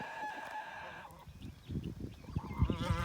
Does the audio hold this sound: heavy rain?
no